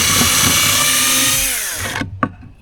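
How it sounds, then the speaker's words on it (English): Power drill boring holes through wood for a rustic sign, a loud close-up whine that holds steady, then sags in pitch as it winds down and stops, followed by a short clatter. "let's drill a couple of holes"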